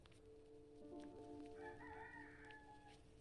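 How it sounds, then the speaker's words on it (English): Rooster crowing in the video game Gris, a clear drawn-out cock-a-doodle-doo call rising over a steady musical drone, fairly loud and close, with no talking. "The chickens are calling."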